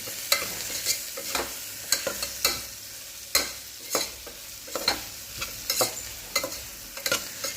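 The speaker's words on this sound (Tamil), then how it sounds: "ஆட் பண்ணி அதையும் நல்ல ஒரு மிக்ஸ் ஆகிற அளவுக்கு கிண்டி விட்டுக்கலாம்" Ginger-garlic paste being stirred into a varagu millet biryani base in a hot pan: a spatula scrapes and taps the pan in repeated sharp strokes over a light background sizzle, close by with no voices.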